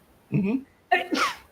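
A single person sneezes nearby, a short burst followed by a second, sharper explosive sneeze, loud and close against a quiet room.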